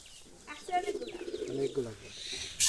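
Soft pigeon coos, a few low rolling calls in a row, fairly close, with a brief scuffle of noise at the end.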